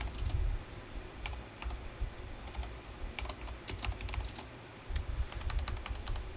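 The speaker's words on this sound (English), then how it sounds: "Killing myself with my typing." Fast typing on a computer keyboard while working in Unreal Engine 5, bursts of quick clicking keystrokes with short pauses between runs, close and clear over a low background hum.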